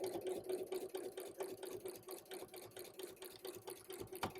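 A home sewing machine stitches steadily while quilting, a faint, close whirring hum with a quick mechanical patter and brief pauses where the fabric pivots. No one speaks.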